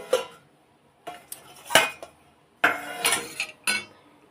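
Metal plate lifted off a cooking pan while making pitha, several sharp clanks and scraping clinks in separate bursts with quiet gaps, close and fairly crisp, no voices.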